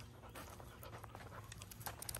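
A Labrador puppy on a walk, wearing a prong collar, pants quietly in quick, steady breaths that sit faintly in the background, with no voices.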